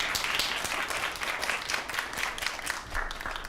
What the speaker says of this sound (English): So can we get a round of applause for Jem?